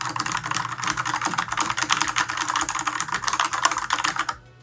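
Rapid, continuous typing on a Corsair K60 RGB Pro mechanical keyboard with quieter-than-usual switches, dense clattering keystrokes close up, stopping abruptly near the end.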